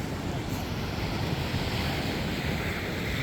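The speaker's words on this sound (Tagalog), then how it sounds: "Tuloy-tuloy ang lakas ng amihan." Strong northeast monsoon wind roars over the sea in a dense, continuous rush, with surf churning underneath and gusts buffeting the microphone.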